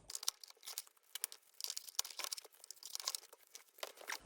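Masterboard paper crinkles and crunches in quick, close, irregular bursts as it is cut into tags, quiet and alone with no talk.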